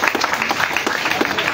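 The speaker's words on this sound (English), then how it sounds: "please clap for them" A crowd at an opposition party press conference at CDC headquarters in Liberia breaks into brief applause, brisk overlapping claps with some distinct near hand strikes.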